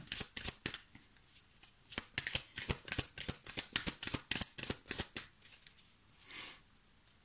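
Oracle cards are shuffled and handled up close, a rapid run of crisp riffling flicks and slaps in irregular bursts, tapering into slower taps at the end.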